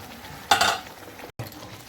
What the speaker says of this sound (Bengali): দেখুন মশলাটা ভালো করে ভাজা হয়ে গেছে।